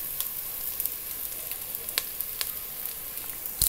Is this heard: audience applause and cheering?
no